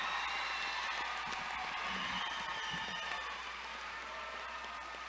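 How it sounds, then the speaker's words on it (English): At a summer city graduation ceremony, a large crowd gives a sustained, faint wash of applause for the graduating class, heard from a distance and fading slightly toward the end. "how about one more applause for the city's graduating class of"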